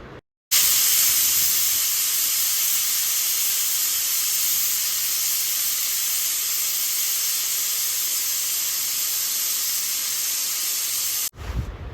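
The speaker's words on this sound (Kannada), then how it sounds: "6 ವಿಸಿಲ್ ಆದಮೇಲೆ ಗ್ಯಾಸ್ ಎಲ್ಲ ರಿಲೀಸ್ ಆದಮೇಲೆ" A pressure cooker that has cooked tomatoes for rasam releases its steam in one loud continuous hiss lasting about eleven seconds, starting abruptly and cutting off at the end.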